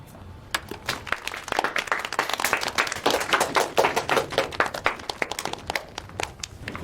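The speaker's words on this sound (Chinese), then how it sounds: "大家鼓鼓掌。" Indoor applause from a small group of office colleagues at a bank, dense uneven clapping that carries on for several seconds, with a few voices murmuring faintly underneath.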